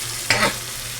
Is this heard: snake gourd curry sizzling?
yes